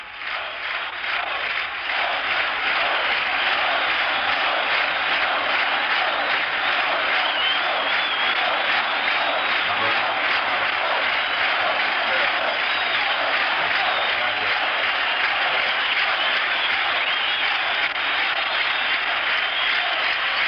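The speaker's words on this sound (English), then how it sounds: "Applause, the staccato applause, and go Sox go." Crowd at Fenway Park during Game 7 of the 1975 World Series between the Red Sox and Reds applauds steadily in a dense, distant-sounding roar of clapping, sustained throughout with broadcast announcer talk faintly beneath.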